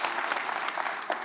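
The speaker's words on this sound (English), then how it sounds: "Still clapping afterwards." Short burst of audience clapping at a university honorary doctorate ceremony for a medical degree, dense and sustained at a fairly loud level.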